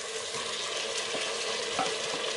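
Onion sizzling and frying in a multicooker pot, with a steady broadband hiss and a few soft clicks of stirring, close and continuous with no voices.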